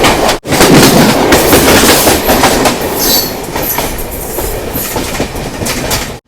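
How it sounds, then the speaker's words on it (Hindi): A local train passes close by on tracks near a rail junction approaching Raipur in Chhattisgarh, giving a loud, steady rumble and rattle of wheels over rails that holds for several seconds before easing slightly. "इस ओर से एक लोकल ट्रेन भी आ रही है।"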